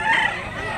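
A rooster crows at a chicken market in Mantalungon, Cebu, a brief, loud call set against busy background crowd noise.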